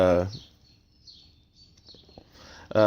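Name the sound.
birds chirping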